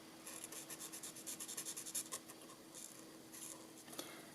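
Light rich raspberry marker colouring in a paper die cut, a soft rhythmic rubbing and scratching of felt tip on card, close and quiet, in short strokes with brief pauses.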